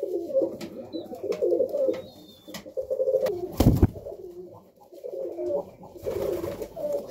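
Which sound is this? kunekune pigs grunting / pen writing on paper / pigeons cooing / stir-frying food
pigeons cooing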